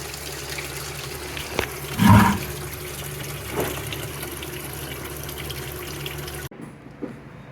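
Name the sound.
coolant draining from 1975 Chevrolet C10 radiator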